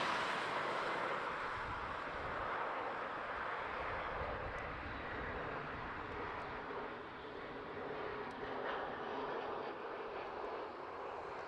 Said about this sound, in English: E175 coming in from Norwich.